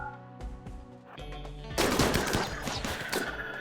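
Gunfire from colonists in RimWorld: steady quiet popping shots over background music, then a louder stretch of dense, rapid automatic fire.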